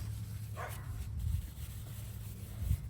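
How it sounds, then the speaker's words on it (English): Dogs barking and yipping in a fit at nearby horses, outdoors, with a steady low rumble underneath and a few louder bursts standing out over the background. "We'll have to pardon the dogs. They're having a fit with the horses."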